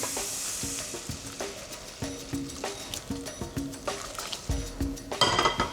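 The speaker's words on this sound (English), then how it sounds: "Now give that a good mix." A spoon stirs chocolate ganache with cream in a pan, making soft scraping and clinking strokes in an irregular rhythm. The sound is close and moderately loud, and there is no talk over it.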